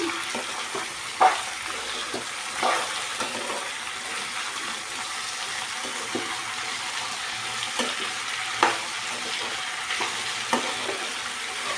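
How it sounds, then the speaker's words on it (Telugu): Salted potato pieces for aloo fry being stirred in an oiled pan, a continuous close sizzle with scattered scraping strokes of a spoon at irregular intervals, no talking. "ఉప్పు వేసుకొని ఒకసారి పొటాటో ముక్కలు మొత్తాన్ని ఇలా కలిపెట్టుకుందాం"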